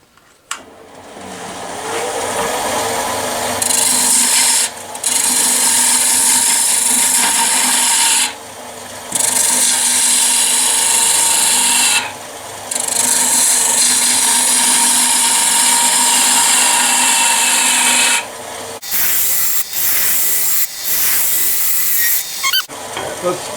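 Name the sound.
woodturning lathe, rough turning a cylinder with a bowl gouge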